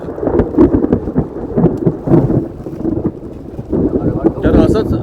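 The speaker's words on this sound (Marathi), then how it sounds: "विजा चमकत आहेत ढगांचा आवाज येते थोडंसं पावसाळी वातावरण आहे" Thunder rumbles in uneven rolling bursts over steady monsoon rain in Malvan, with lightning, loud and close, with a brief sharper crackle near the end.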